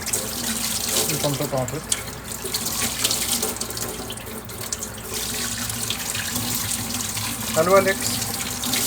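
A kitchen tap runs steadily into a sink, a loud continuous rushing splash close by, while a person speaks briefly over it.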